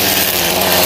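A steel-bladed string trimmer cutting overgrown grass around rocks, a loud close buzzing engine whine held steady through a brief burst.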